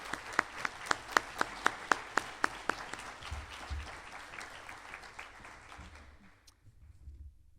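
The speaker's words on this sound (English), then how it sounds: "if we could just give that staff a round of applause" A small crowd at an alumni and athletics hall of fame induction ceremony applauds, with a run of sharp, distinct claps at first that thins out and fades to near silence.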